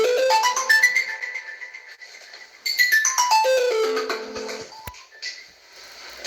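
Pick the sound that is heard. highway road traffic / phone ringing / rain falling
phone ringing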